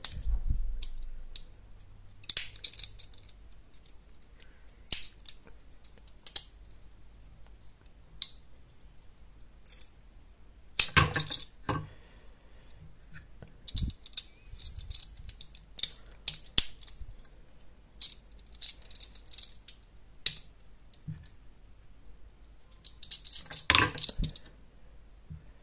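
Small, sharp clicks and scrapes come at irregular intervals, with a few louder metallic taps, as a small blade pries out a brake pad on a Xiaomi M365 electric scooter, against a quiet background.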